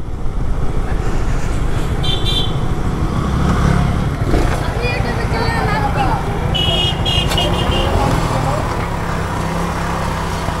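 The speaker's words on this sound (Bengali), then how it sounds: "এইটুকু বয়সে সে বাইকটাকে খুব ভালোভাবে রপ্ত করছে এবং যথেষ্ট দক্ষতার সাথে সে রাইড করতেছে।" A motorcycle ridden at good speed along a road, its engine a constant loud drone mixed with passing traffic, faint horn toots and wind noise throughout.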